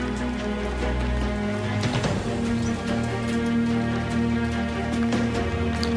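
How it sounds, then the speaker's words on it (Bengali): Continuous rain falling during a flood in Durgapur, a steady wash of rain under a strong, droning mechanical hum that runs throughout. "সব সময় বৃষ্টি কন্টিনিউয়াসলি পড়েই যাচ্ছে।"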